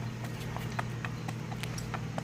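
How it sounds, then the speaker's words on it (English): A Saddlebred mare moving from a walk into a smooth racking gait, her hooves clip-clopping in an even, quick four-beat rhythm over a steady low hum, fairly close by. "we're going to do a few passes just to show you the smooth transition from her walk to her gait and back from her gait to a walk"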